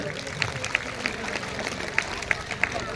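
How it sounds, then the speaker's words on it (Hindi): Schoolchildren at a convent school function clap in a crowd, a steady wash of applause with sharper individual claps popping out, as a voice carries over it. "ताली बजाइए बच्चों जोर से।"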